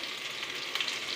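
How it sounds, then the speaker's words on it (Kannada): Steady crackling sizzle of mustard seeds and garlic tempering in hot oil, close and fairly quiet, with a few brighter pops near the end; no voices. "ಒಗ್ಗರಣೆ ಹಾಕ್ತಾ ಇದ್ದೀನಿ ಸಾಸಿವೆ ಕಾಳು ಹಾಕಿದ್ದೀನಿ"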